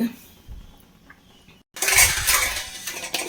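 A clay cooking pot is set on the stove for a prawn and mango curry: a short metallic clink and scrape, then louder close clattering and rustling.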